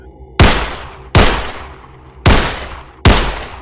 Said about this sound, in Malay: Pemandu membidik pistol ke udara dan melepaskan tembakan bertalu-talu.